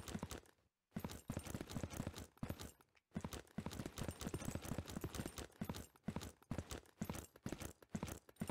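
Footsteps thud in the survival shooter Zero Sievert: a rapid, continuous run of close, crisp steps with two brief pauses.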